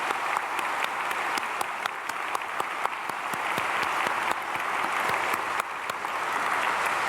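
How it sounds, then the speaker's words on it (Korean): Church congregation applauding during a dawn prayer service, steady dense clapping from many hands that holds at an even level throughout with a few sharper claps standing out. "박수"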